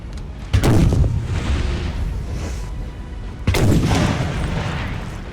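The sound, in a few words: artillery cannon fire, from Napoleon: Total War video game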